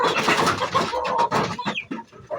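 Chickens on a farm during feeding, close and fairly loud, with a burst of overlapping clucks and squawks followed by a few sharper separate calls.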